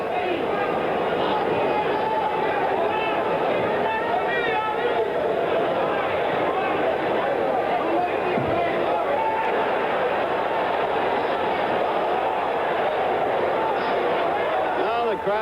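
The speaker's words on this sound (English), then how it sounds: "The crowd is not so elated. They'd like to see some action, and they're letting that fact be known vocally." Boxing arena crowd at a heavyweight world championship bout, a steady dense roar of voices and chatter that runs unbroken through the whole stretch, with scattered shouts rising out of the mass of sound.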